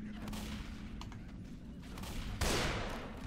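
Gunfire from a rifle in the zombie shooter game Left 4 Dead 2, a steady rattle of shots with one louder blast near the end.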